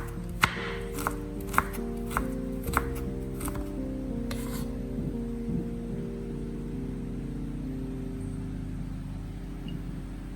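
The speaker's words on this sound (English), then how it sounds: "After slicing, I continue to shred the ginger into small, even strips." A knife shreds fresh ginger into thin, even strips on a board. A quick run of sharp chopping taps comes first, then the cutting stops and a steady low hum carries on alone.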